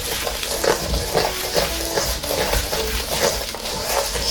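Sugar being mixed into snickerdoodle dough in a bowl: steady, rhythmic scraping and stirring strokes, close and fairly loud, with no talking.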